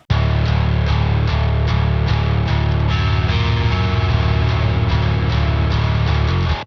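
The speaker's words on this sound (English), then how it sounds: "The bass guitar sounds like this." A heavily distorted bass guitar plays a steady, driving riff with rhythmic picked notes, loud and up close, with no voices.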